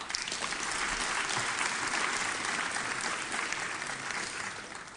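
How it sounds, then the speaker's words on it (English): Steady applause from an audience at a closing keynote session of an international education conference in Maastricht, the Netherlands, filling the whole stretch with dense, even clapping that holds loud and unbroken. "and please give an applause."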